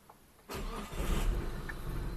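A small 1000cc car engine cranks briefly and catches on the first try, then settles into a steady, close idle.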